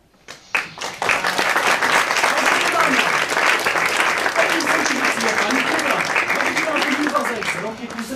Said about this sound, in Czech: Přivítejte je prosím bujarým potleskem.